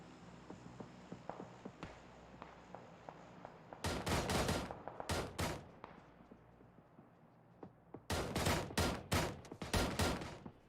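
Gunfire in a PUBG esports match, several sharp bursts of automatic fire in quick clusters, loud and close, after quieter footsteps and distant shots, with no talk over it.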